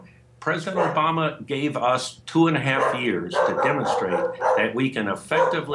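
A dog barks now and then in the background, partly buried beneath a man's steady, continuous speech during a televised interview on legalization laws.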